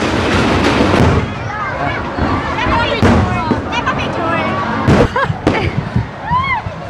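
Festival fireworks crackle and pop continuously in a dense, noisy barrage with a few sharper bangs, heard amid a crowded outdoor crowd with voices and whistling sounds.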